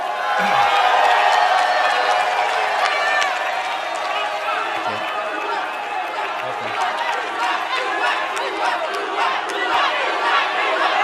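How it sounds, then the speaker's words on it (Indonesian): A crowd of supporters at a candidates' debate roars with cheering, shouting and whoops, a loud, continuous mass of voices with chatter that never lets up. "jadi saya persilahkan tepuk tangan untuk para paslon"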